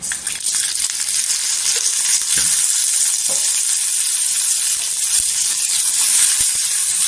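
Cumin seeds and garlic frying in oil in a pan, a loud, steady, close sizzle and hiss with faint stirring clicks throughout.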